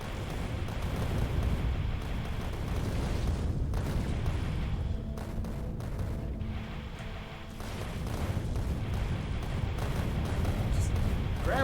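Rockets fired in bulk in Factorio explode as a dense, continuous roar of booms and bursts, loud and sustained throughout with a brief dip midway.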